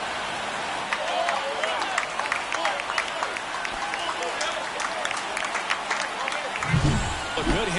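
A stadium crowd in the baseball video game MLB The Show 24 cheers and claps continuously after a run scores, a dense roar with a game commentator talking over it.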